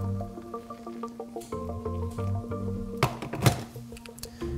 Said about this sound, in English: Fill the chamber with hot water.